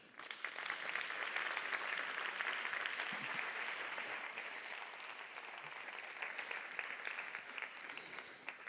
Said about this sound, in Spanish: Un aplauso para Angélica Sátiro.